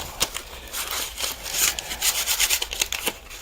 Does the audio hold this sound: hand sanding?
yes